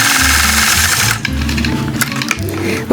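A sewing machine stitching a quilted design by hand-guided machine quilting, running loud and steady with a fast continuous needle rhythm that shifts speed partway through.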